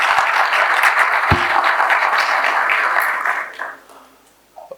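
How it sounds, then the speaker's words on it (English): Audience at a conference applauding with dense, sustained clapping that stays loud for about three seconds before tapering off and fading to near silence. "let's give him a big round of applause"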